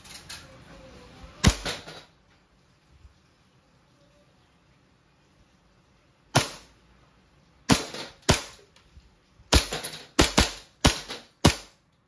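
Sharp, loud cracks from a WE 2011 Hi-Capa 5.1 Type K gas blowback airsoft pistol: a pair of shots, a pause, then a quick burst of about six snappy reports with brief hissy decay, no talking.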